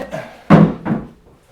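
Drawers being pulled out of an old veneered wooden cabinet during a woodworking restoration, two knocking slides, close and fairly loud, with no talk.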